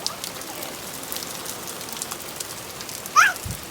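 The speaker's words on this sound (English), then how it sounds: "Whoa, big rain is coming." Heavy rain pours down outdoors as a steady, even hiss of drops on surfaces, close and continuous, with a brief vocal sound near the end.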